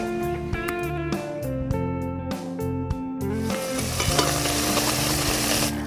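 Small river puti fish coated in salt and turmeric sizzle in mustard oil in a wok, a close, steady frying hiss that grows denser and louder toward the end, with music playing alongside.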